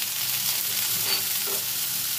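Potatoes and kakrol (spiny gourd) frying in oil in a pan with salt and turmeric, a loud, steady sizzle with stirring, close up and with no talk.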